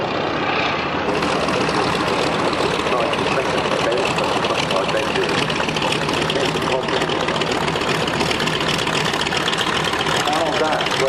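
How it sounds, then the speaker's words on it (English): A Fairey Swordfish 'string bag' torpedo biplane's propeller engine runs steadily at an airshow at Duxford, a continuous loud drone with broadband roar throughout. "all of you will have a very good chance to have a close look at this airplane, effectively known as the string bag"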